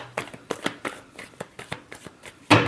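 Tarot cards are shuffled by hand in a quick run of about eight crisp riffling bursts, with a sharper, louder flutter right at the end, close and with no talking.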